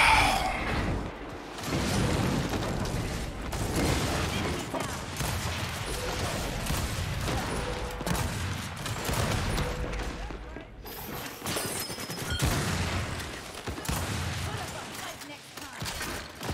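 Rapid bursts of video game gunfire crackle continuously, dense and loud, with excited voices talking over the shooting throughout.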